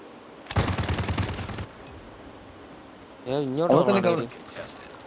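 Bursts of automatic gunfire in the mobile shooter Call of Duty Mobile, one long rapid volley followed later by a second, shorter burst, with quieter game ambience between the volleys.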